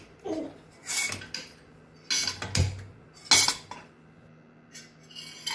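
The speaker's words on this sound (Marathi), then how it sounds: "आता मी हे ड्रायफ्रूट्स भाजून घेते।" Cashews, almonds and pistachios dry roasting in a pan for homemade dry fruit chocolate, with several close, intermittent bursts of scraping, rattling and metallic clinks as they are stirred, separated by quieter moments and with no talking.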